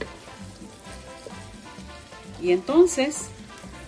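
Meat fries in a sauce in a pan for a Puerto Rican pionono filling, a continuous close sizzle and crackle with a brief spoken phrase and some louder clatter near the end.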